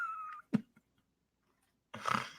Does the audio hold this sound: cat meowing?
yes